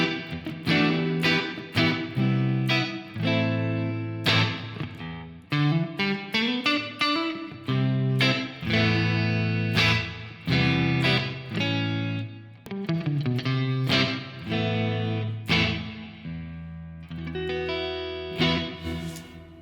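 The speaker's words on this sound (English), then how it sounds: "that suddenly sounds like a full lush reverb over this guitar" A guitar played through iZotope Neoverb reverb rings out in a run of plucked notes and chords, each note blooming into a lush, lingering wash that carries between phrases, with no talking.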